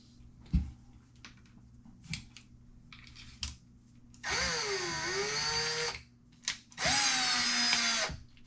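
A power drill on low speed and low clutch setting backs screws out of a Traxxas 1/16 Revo RC truck, two bursts of whining motor separated by small clicks and taps of handling the plastic parts.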